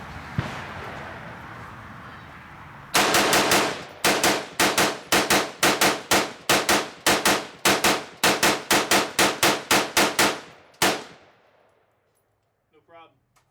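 An Elite Tactical AR-15 rifle fires a long string of loud, sharp shots after a round is chambered, the reports coming in an uneven rapid rhythm before stopping, with faint talk at the end.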